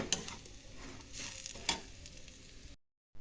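A coconut laddu mixture fries in ghee, with a soft sizzle and a few sharp stirring scrapes against the pan, close and fairly quiet, cutting to silence near the end.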